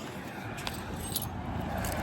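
Faint metallic jingling of keys over a steady low rumble, with a few light clinks scattered through the short moment.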